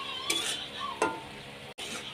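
A spoon stirs mushroom posto, a poppy-seed curry, in a pan after salt is added, giving a couple of close scraping strokes over a steady soft sizzle.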